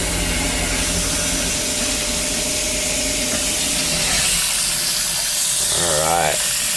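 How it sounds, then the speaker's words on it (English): Hot water runs steadily from a tap fed by a tankless water heater, a constant broad rushing hiss that holds for several seconds, with a brief voice near the end. "Hot water's on. System kicks on."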